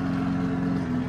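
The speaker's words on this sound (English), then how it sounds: "My grandpa is mowing our yard right now." Steady motor drone of a lawn mower cutting grass in a yard outside a house, heard from indoors as a continuous low hum with a strong tonal buzz and no speech.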